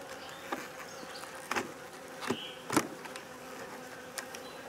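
Honeybees buzz steadily around an open split hive during an inspection, the dense hum broken by several short, louder passes as single bees fly close by. No one speaks.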